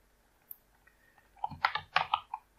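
Typing on a computer keyboard while entering account details during online store setup, a quick cluster of close, crisp key clicks after a quiet start.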